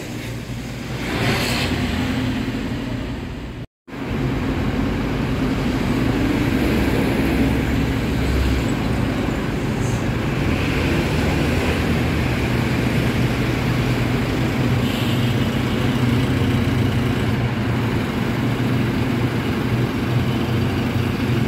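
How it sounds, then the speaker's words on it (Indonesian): A Damri shuttle bus with a Piala Mas body idles at YIA airport, a steady loud diesel rumble with passing traffic and engine drone that drops out briefly near the start. "Ini ada bus Damri teman-teman dengan bodi dari Piala Mas ya"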